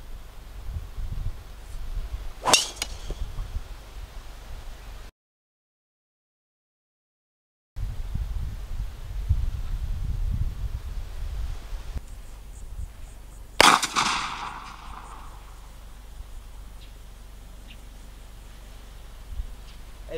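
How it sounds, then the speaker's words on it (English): A golf ball gun firing white golf balls on a golf course during a long drive contest, heard as two sharp, isolated bangs about eleven seconds apart over quiet outdoor ambience. "the golf ball gun is gonna be shooting white balls"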